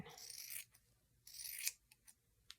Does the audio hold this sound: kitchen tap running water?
no